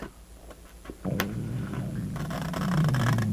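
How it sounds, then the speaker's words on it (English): A loud stomach growl rumbles low and gurgling near the end, close by, following some quiet scraping from crafting. "That's my stomach growling."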